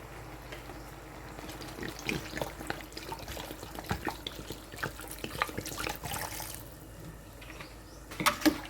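Water is poured from a tap into a pot of mixed vegetable soup with minced pork, giving an irregular run of splashes, trickles and drips at close range, swelling and easing, with a louder gush near the end.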